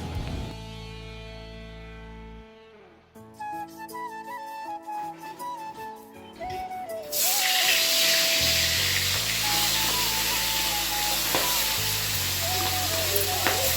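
A steady hissing sizzle of potatoes frying in hot oil fills the second half, preceded by clinking and faint background music.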